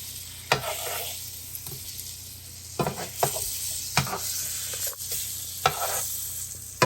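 Alaskan sockeye salmon sizzles steadily in a hot pan, a continuous frying hiss broken by sharp stirring and scraping clicks, close and moderately loud with no talking.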